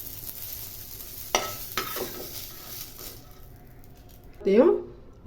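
Tamarind heats in oil in a pan, with faint sizzling and a few sharp clinks of a utensil against the pan, fairly quiet overall, as someone talks.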